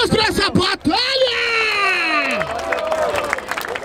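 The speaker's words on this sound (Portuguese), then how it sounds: "Palmas pra essa batalha!" A crowd at a rap battle claps, cheers and yells, loud and close, with one voice bellowing a long sustained shout through the middle over the applause.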